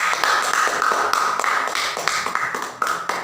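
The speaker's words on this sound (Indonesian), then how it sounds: "Kasih aplaus" Classroom applause from a group of students, a dense stream of overlapping claps with small surges and dips, close and steady throughout with no talking.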